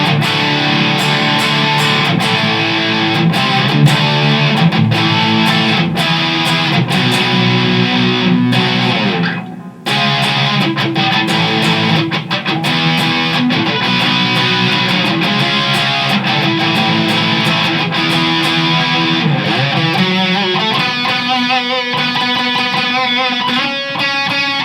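FireFly electric guitar played through the distortion channel of a Jimmy amp, boosted by a Boss Super Overdrive: loud, crunchy distorted chords and riffs, sustained with a brief gap midway, then busier picked notes toward the end.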